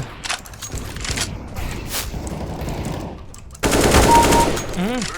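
Rapid bursts of video game gunfire, loud and close, recorded through a Maono AU-902 Fairy Lite microphone, followed by a louder stretch of shooting mixed with sharp mechanical clicks and sweeping electronic effects.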